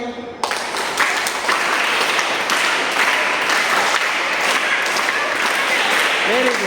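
Scout students doing their group scout claps, producing loud, sustained, close applause with a slightly patterned feel, and voices audible in the mix.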